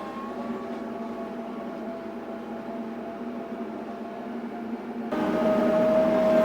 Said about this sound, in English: let's get the tractor out and head on up and finish getting this mowing done